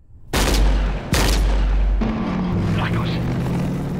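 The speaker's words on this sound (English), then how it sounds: "Proteus discharged his weapon, Captain." A Space Marine weapon from Warhammer 40,000 fires in two heavy, booming blasts followed by a sustained roaring burst of fire that fades slightly, loud and close, with voices in the background.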